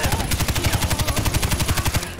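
Rapid automatic gunfire in Far Cry 4, with a steady rhythmic burst of about twenty close, loud shots over two seconds, then an abrupt stop.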